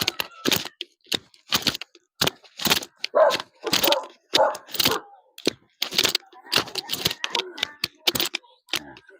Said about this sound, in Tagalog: Sumalubong pa sa ating aso.